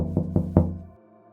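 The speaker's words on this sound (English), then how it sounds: "another knock. But this time it wasn't at the front door." Three hard knocks on a door, spaced evenly and close, each ringing briefly with a hollow wooden resonance before a low hum fades into quiet; no speech.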